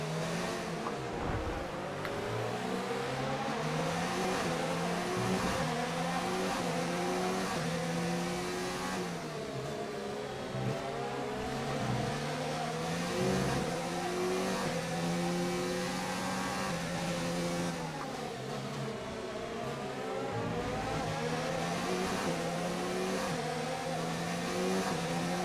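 A Formula 1 car's engine in F1 2019 at the Canadian Grand Prix, a loud continuous high-pitched whine rising and falling through gear shifts as it accelerates and brakes around the lap, heard close from the cockpit.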